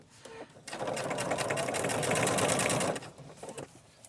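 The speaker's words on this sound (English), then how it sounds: "I really want to do one more stitch right there." A sewing machine stitches through a junk journal cover with cotton thread, running in a steady close burst of about two seconds, then stopping, with brief handling sounds after.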